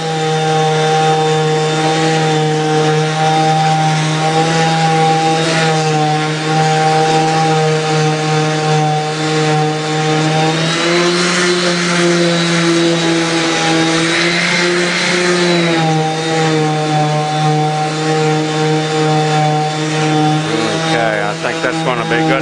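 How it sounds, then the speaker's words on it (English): Power sander with 80 grit paper grinding a lump of glue off a subfloor, a loud steady motor whine held close throughout, with someone talking over it. "I'm using the sander with one hand"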